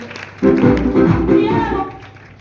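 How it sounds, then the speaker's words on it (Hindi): A crowd bursts into loud, dense clapping that starts abruptly, stays strong for about a second and a half, then drops away, with voices mixed into the noise. "बजाओ ताली जोरदार"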